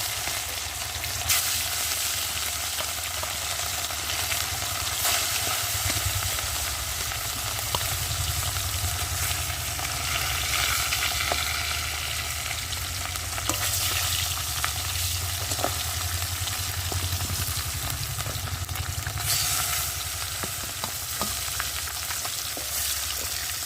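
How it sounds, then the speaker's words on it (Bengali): Fish fries in hot oil in a kadai for a fish curry with flat beans and potato, giving a dense, continuous close sizzle with occasional spatula scrapes and stirring. No one speaks. "তেলটা গরম হয়ে গেছে, আর এখন আমি একটু খুন্তি দিয়ে নেড়ে দেবো। আর একে একে মাছগুলো দিয়ে ভালো করে ভেজে নেব।"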